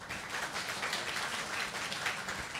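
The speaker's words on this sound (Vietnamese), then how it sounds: "xin hãy trân trọng dành một tràng pháo tay cho nhạc sĩ trẻ Vũ Đặng Quốc Việt" Audience applause for a young musician at a love-song concert event, a soft, fairly distant wash of clapping that holds steady and even for a few seconds.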